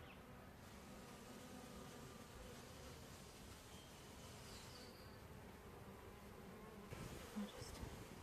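A swarmed honey bee colony fills the air with a dense, continuous buzzing hum from many insects at once, steady and fairly close, with no talking.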